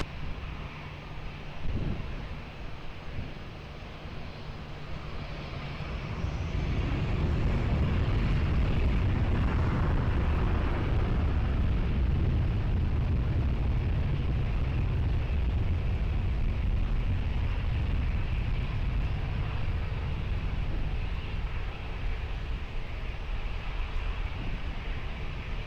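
A jet airliner taking off from runway 20 at Lisbon Airport, heard as a broad, steady roar that swells after a few seconds and then holds loud and sustained, with wind buffeting on the microphone.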